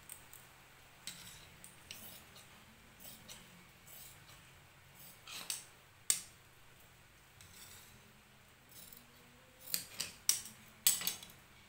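Scissors snip through blouse fabric with lining in a quiet room, giving a series of sharp crisp cuts that bunch together near the end, with no talking.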